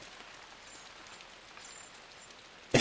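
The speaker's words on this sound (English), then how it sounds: "it's raining" Light rain patters steadily in a soft, hissy wash in the video game Shoe Inside, with a few faint high chimes, ending in a sudden louder burst of noise.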